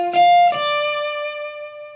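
Two picked electric guitar notes played through a Line 6 Helix preset, the second sustaining and ringing out clean and bright with a slow decay, alone and close.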